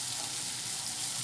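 Ingredients sautéing in a pan give off a steady, soft sizzle and hiss, even and continuous at low volume throughout, with no voice over it.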